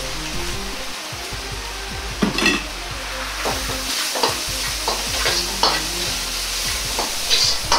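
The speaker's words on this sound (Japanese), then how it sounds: "そうしたらニンニク生姜を入れて炒めます" Minced ginger and garlic stir-fried in hot oil with crispy fried minced meat, a steady close sizzle broken by repeated scraping strokes of a spatula against the pan.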